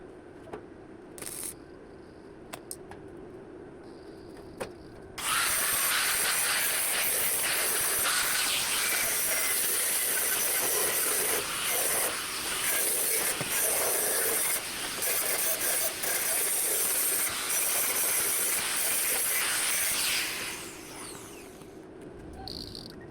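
Angle grinder working a welded steel door frame, a loud continuous abrasive hiss and whine that starts abruptly after a few seconds of quieter shop noise, holds steady for about fifteen seconds, then winds down.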